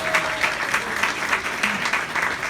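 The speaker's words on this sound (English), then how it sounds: "give a round of applause to Ada Villatoro" A crowd at a restaurant happy hour gives a round of applause to the owner, with brisk, fairly close clapping that holds steady throughout.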